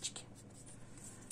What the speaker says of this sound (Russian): добавляю еще линию к нашему хоботу, провожу, здесь у меня она пошире